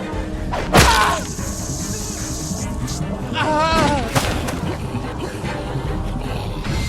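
Gunfire in The Walking Dead video game, season 1 episode 2, with a loud sharp shot early on followed by further bursts and growling, zombie-like commotion, all under an urgent, strained voice.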